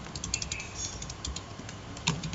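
Typing a SQL select query on a computer keyboard, with steady rapid key clicks close to the microphone over a low hum, ending in a slightly harder keystroke.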